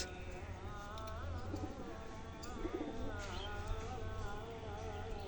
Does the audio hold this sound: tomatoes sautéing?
no